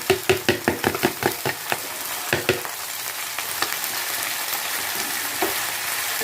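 Tomatoes fry in a pan for Andhra-style fish curry: a quick run of sharp, evenly spaced taps opens, then a soft, steady sizzle carries on close by with no voices.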